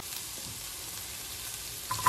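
Onion and garlic sauté in a pan for pancit, a steady soft sizzle of frying with a faint stirring scrape near the end.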